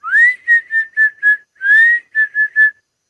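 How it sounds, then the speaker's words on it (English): A character whistles in the 1997 game Goosebumps: The House of No Return, a clear run of nine short rising and held tones in quick succession, loud and alone. "that's when Chris starts to whistle"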